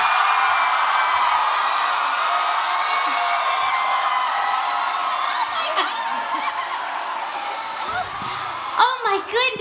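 A large crowd at a New York Comic Con 2019 Steven Universe panel cheers and screams in a steady roar, then fades toward laughter and a voice speaking near the end.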